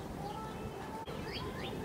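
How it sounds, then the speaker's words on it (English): Doves cooing faintly outdoors beside a barbecue grill, soft low coos with a few higher chirps, quiet and somewhat distant against background hiss. "look at the doves."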